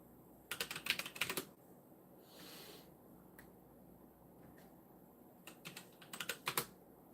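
Computer keyboard typing in two quick flurries of light clicking keystrokes, separated by a quieter stretch with a soft muffled shuffle, close by and with no talking.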